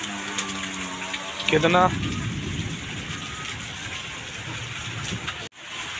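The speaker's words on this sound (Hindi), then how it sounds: "तो गाइस देखिए बारिश मौसम दिखाते हैं हमको" Heavy monsoon rain pours steadily on a village house in Bihar or Jharkhand, a dense continuous hiss with water falling from the roof, while someone speaks briefly over it near the start.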